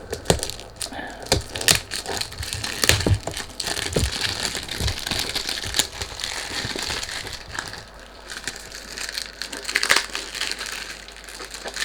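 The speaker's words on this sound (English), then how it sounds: "Sorry about the noise. When you do unboxing you can't do anything about it." Thick cardboard packaging of a Nayaat XLNC Grandeur 200 ml perfume box crinkles and crunches close up during unboxing, with sharp cracks and rustles running almost continuously, no talking.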